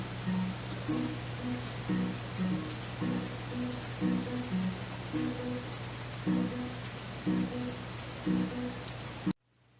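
Music generated by an LSTM model plays back quietly with a low, steady hum underneath. A short, repetitive pattern of plain synthetic piano-like notes loops several times before the sound cuts off abruptly.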